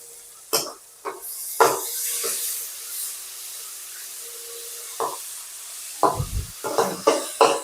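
Tomato, onion and pepper fry in a pan with a soft steady sizzle, broken by a series of sharp scraping knocks as a spoon stirs and taps the pan.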